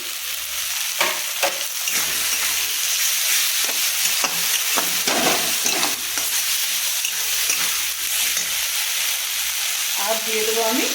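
Fish (Assamese thenga fish) frying with coriander leaves stirred in, a continuous steady sizzle with intermittent scraping stir strokes close by, no talk over it.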